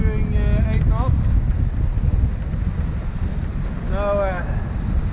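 Strong wind buffets a microphone aboard a sailboat heading into a fjord at about eight knots, a loud continuous roaring rush with water sounds beneath and brief voices speaking over it.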